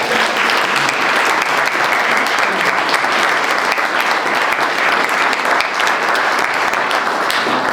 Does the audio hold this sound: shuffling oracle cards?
no